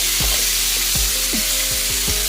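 Crab pieces mixed with turmeric and salt frying in hot oil, a loud, steady, close sizzle that runs throughout, with faint clinks of stirring on top.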